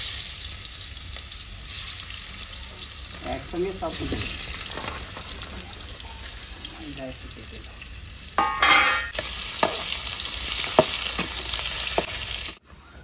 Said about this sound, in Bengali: বন্ধুরা তেল গরম হয়ে গেছে, মাছগুলো আমি দিয়ে দেবো